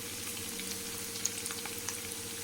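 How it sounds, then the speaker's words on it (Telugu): Onions frying in a pan with oil, a steady soft sizzle with faint crackles and a few light pops, close and continuous, no talking. "చూసారా, మనకి ఆనియన్ అయితే మంచిగా వేగిపోతుంది."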